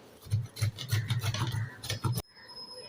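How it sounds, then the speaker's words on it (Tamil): Peeled cassava root rubbed by hand against a grater in quick, rhythmic rasping strokes, close and fairly loud, stopping abruptly near the end. "கிழங்கு நல்லா துருவி எடுத்துட்டோம்."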